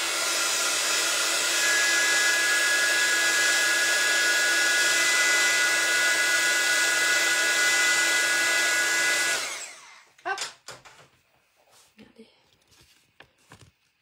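A hair dryer blows steadily and loud to dry a handmade craft case, running alone for about nine seconds before cutting off, followed by a few brief handling clicks and taps.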